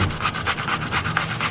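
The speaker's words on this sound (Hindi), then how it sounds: "हैंड ग्राइंडर की मदद से अदरक को ग्राइंड कर लेंगे।" Ginger being grated on a hand grinder, a rapid rhythmic rasping scrape repeating about eight times in quick strokes, close and fairly loud, with no talk.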